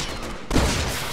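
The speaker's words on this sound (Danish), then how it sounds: "Et velplassert skudd på tønnen hans." A sudden burst of gunfire erupts in Resident Evil 6 co-op play, a loud blast followed by a dense, rumbling volley of shots and debris noise lasting under a second.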